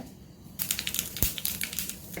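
Mustard seeds crackle and pop in hot oil for a tempering, a quick run of sharp, close snaps after a quiet start.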